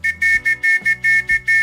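A Morse code message start signal: a sequence of tonal beeps, short and long pulses in a quick rhythmic pattern, clear and close.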